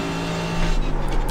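A GT3 race car engine drones steadily on the Nordschleife in the iRacing sim, a sustained close-up tone that rises slightly in pitch and loudness partway through, heard alone without talk.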